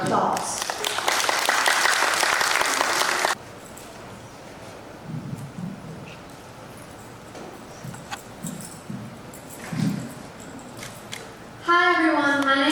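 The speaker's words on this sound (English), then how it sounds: "Please join me in giving her a warm round of applause." An audience bursts into a warm round of applause to welcome a speaker. Loud, dense clapping lasts about three seconds, then quieter room rustle follows, and a voice starts talking right at the end.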